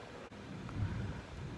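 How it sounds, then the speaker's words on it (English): Heavy wind in a severe thunderstorm, a steady broadband roar buffeting the microphone with a brief dip and a swelling gust, heard alone without talk. "It's really, really windy. You can see the heavy wind coming down."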